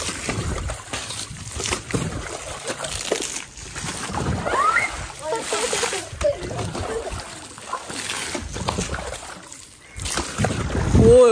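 Water splashes and sloshes continuously as a swimming pool is emptied, with a steady, fairly close wash of churning sound and brief louder surges.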